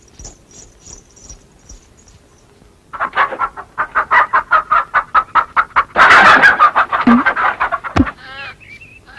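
Chicken clucking loud and close in a rapid rhythmic series of squawky clucks, rising into a noisy burst of agitated calls, heard alone with no talking.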